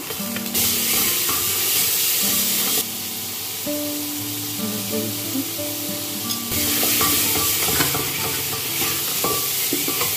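Potatoes, peas and tomatoes frying in a pan, a loud, dense sizzle running throughout with spatter and stirring scrapes on top, close by, while faint musical tones sit quietly underneath.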